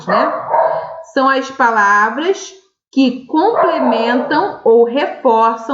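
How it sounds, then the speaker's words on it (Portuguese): Two pet dogs barking and yipping indoors in the background, partly masked by continuous close speech that runs over them throughout. "eu já peço perdão pelo barulho dos cachorros"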